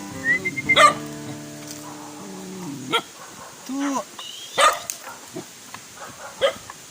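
A few short dog barks ring out amid chatter and background noise, with a person speaking nearby.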